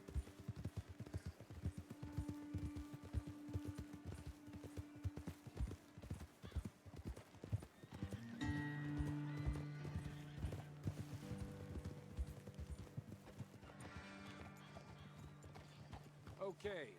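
Horses walk with a steady clip-clop of hooves, close and fairly loud, joined by an occasional neigh or whinny, under quiet background sound.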